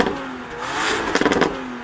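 A Porsche Macan's 2.9-litre V6 petrol engine revs briefly, the pitch rising and then falling back, ending in a short burst of crackles near the close.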